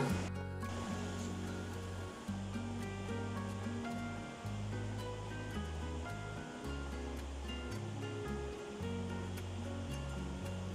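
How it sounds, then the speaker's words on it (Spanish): River water flows and rushes steadily during a motorboat ride through the underground river of the Cacahuamilpa caves near Taxco, a continuous broadband wash with a low droning hum beneath it and no talking. "un recorrido en lancha a través del río."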